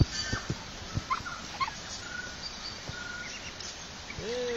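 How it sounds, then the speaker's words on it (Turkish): A rooster on a farm among other birds and fowl lets out a short crow near the end, fairly faint, following scattered clucks, clicks and soft background insect chirring. "Şu horoz çok güzel."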